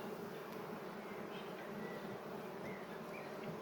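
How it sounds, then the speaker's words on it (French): Honeybees busy inside a hive box building comb and storing honey give off a soft, continuous buzzing drone, faint and even, with a few individual bees humming slightly louder as they pass nearby. "Là, les abeilles elles mettent du miel. Elles construisent."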